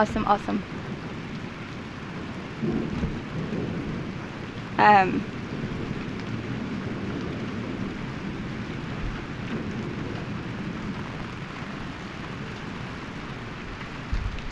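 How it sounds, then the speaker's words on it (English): A thunderstorm with steady rain pattering on surfaces outdoors, a roll of thunder rumbling in the distance and a brief sharp crack around the middle, with continuous hiss throughout. "This is the first cool storm that we've had in, shoot, over a year."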